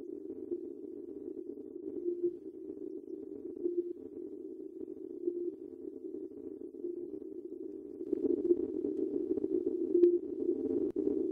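Pulsar pulses picked up by a radio telescope and converted to sound, a steady mid-pitched tonal drone with a faint regular pulsing that grows slightly rougher and fuller toward the end, heard alone.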